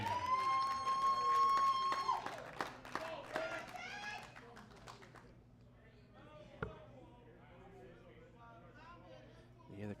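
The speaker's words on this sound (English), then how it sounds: "the crowd getting excited for our" Darts crowd at a tour finals night clapping and cheering in a busy hall, with a brief whistle early, the noise fading to a lower crowd murmur with scattered sharp claps and voices.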